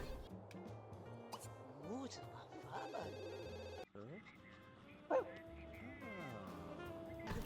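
Wolf or dog barks and yips in a video game, several short calls mixed with melodic chime-like game music and interface tones, with a brief dropout midway.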